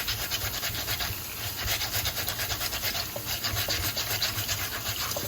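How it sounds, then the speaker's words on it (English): Potato being scrubbed with a vegetable brush to remove dirt, a loud close bristly scraping in quick repeated back-and-forth strokes, steady and continuous with no talking. "You just want to scrub all that dirt off."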